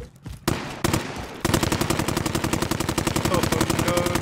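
Rapid video-game gunfire: a few separate shots open, then a long sustained automatic burst rattles on loud and close, like a machine gun.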